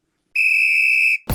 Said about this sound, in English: Blow the whistle, ref.